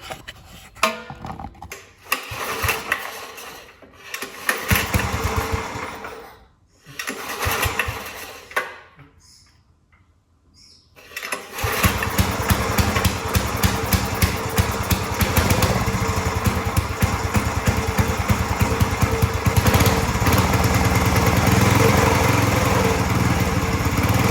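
A Kubota engine fitted to a Supercut Scott Bonnar model 17 mower at first start-up sputters in uneven bursts with short gaps, then settles into a loud, steady running drone that continues to the end.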